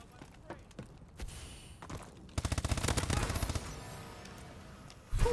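Rapid automatic gunfire from a gun in Call of Duty: Advanced Warfare, a dense burst of shots in the middle followed by a brief sharp burst at the end, with someone talking around the shooting.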